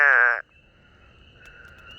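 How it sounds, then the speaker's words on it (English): A single short buzzing trill from a spadefoot toad calling for a mate, loud and close, lasting under half a second before fading to quiet night background. "all the ones you hear calling are toads that have not yet found a mate"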